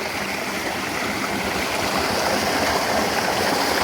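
Water drains steadily out of a fish pond, a continuous, full rushing and gurgling flow close by, loud and unbroken with no voices.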